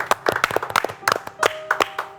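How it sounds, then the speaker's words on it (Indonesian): Studio audience clapping on a night talk show, a few distinct, sharp rhythmic claps from a small group, fairly close and with little else underneath. "Tepuk tangan."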